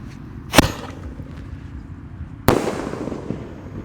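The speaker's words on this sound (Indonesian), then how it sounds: "di sini ada mercon Bima Sakti Roman Candle ukuran 4 inci guys, yang warna merah" Two sharp blasts from a red Bima Sakti 4-inch Roman candle firework crack out about two seconds apart, the second followed by a crackling, fizzing tail fading under outdoor background noise.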